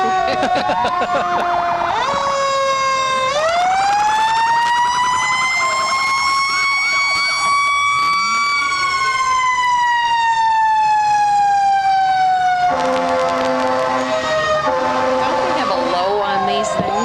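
Loud fire engine sirens wail continuously at a parade, rising and falling in pitch, with a second siren layered in toward the end.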